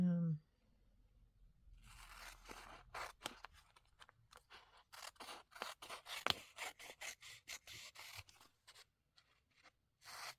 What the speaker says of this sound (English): So I'm just going to cut off some strips to use sort of like a washi.